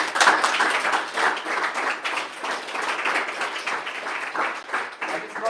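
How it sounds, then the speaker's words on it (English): Audience applause for a team at a startup night event, a steady patter of many hands clapping at moderate volume throughout. "A big round of applause for them, please"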